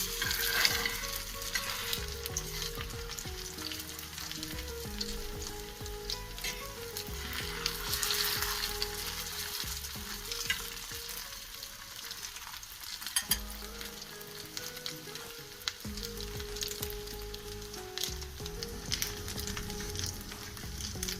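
Stuffed potato bread rolls fry in hot oil, with a steady close sizzle and bubbling that runs throughout, broken by occasional stirring or turning noises.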